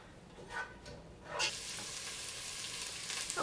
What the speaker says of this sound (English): Okay, onions are cooking.